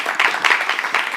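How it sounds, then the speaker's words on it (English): Audience applause for a speaker at a maker community event, a close, fairly loud burst of clapping from a modest crowd, uneven and sustained throughout. "Let's please give it a round of applause for Tom."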